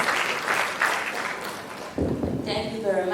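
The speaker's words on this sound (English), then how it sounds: "Please let's receive her with a round of applause." Audience at a youth conference gathering applauding a dense wash of clapping that dips briefly, then a voice begins speaking over the fading applause.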